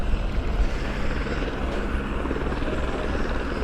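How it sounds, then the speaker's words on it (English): Steady helicopter rotor thrum with a broad engine roar as the helicopter comes in to land, continuous and moderately loud, slightly distant, with no speech. "We've got a helicopter coming into land over on the far side."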